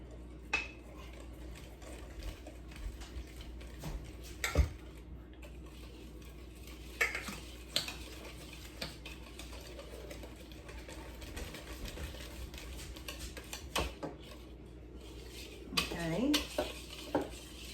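Buttermilk being mixed into chocolate sheet cake batter in a bowl, with a steady scrape and clink of utensil against the bowl and a few sharper knocks, close and fairly quiet.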